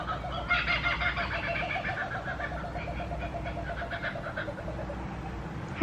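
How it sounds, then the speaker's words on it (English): Kookaburras call outdoors from the trees, a continuous rising and falling chorus of cackling, laughing notes at moderate distance, with no voices over it. "kookaburras."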